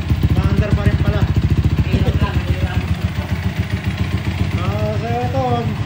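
Yamaha Sniper 155 motorcycle engine running close by, a loud steady putter with rapid regular firing pulses, a few short rev changes near the end.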